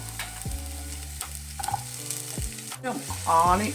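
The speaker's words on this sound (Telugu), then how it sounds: "ఆయిల్ కాగిన తర్వాత ఆనియన్ మిర్చి వేసేసుకొని కొంచెం గోల్డ్ కలర్ వచ్చే వరకు ఫ్రై చేసుకున్నాము" Onion and green chilli frying in hot oil with a steady close sizzle, broken by several spatula scrapes and knocks on the pan in an uneven rhythm.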